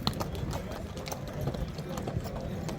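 Hooves of an ambling horse clip-clop in a steady, quick rhythm at a horse market in Nookat, moderately close, with people talking in the background.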